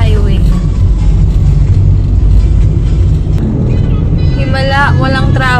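Car driving along an open, traffic-free highway, with a loud continuous road rumble and engine drone from inside the vehicle, and voices talking over it.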